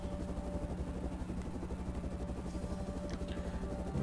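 Steady helicopter rotor drone in the Infinite Air snowboarding game, a low constant thrum with a faint steady hum, no talk.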